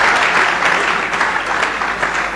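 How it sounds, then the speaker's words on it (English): Loud, close, dense clapping from a conference audience at a leadership event, a continuous roar of many hands with no pause over a couple of seconds. "If you want to clap, clap better."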